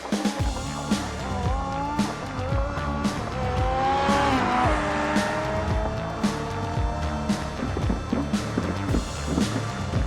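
A race car called the Sunburst makes a speed run in the BeamNG driving game, its engine rising hard in pitch through repeated gear changes with brief drops at each shift. Some tire squeal comes in, and the sound is loud and steady throughout.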